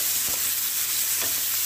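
Onion, curry leaves, chilli and garlic sizzling hard in hot oil, a dense steady crackle with two brief stirring scrapes.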